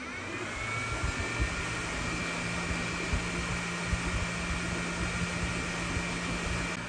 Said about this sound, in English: I will let it print a few layers and allow the machine to print at its top speed.